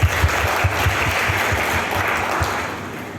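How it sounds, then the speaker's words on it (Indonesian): Crowd applause at a Pramuka Pandega scout gathering: a dense, steady wash of many hands clapping, fairly loud and sustained throughout, tapering slightly toward the end, with no talk over it. "tepuk tangan luar biasa"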